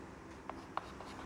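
A pen scratches out a chemical equation in a few short, quiet strokes, with two small tapping clicks close by against a steady low room hum.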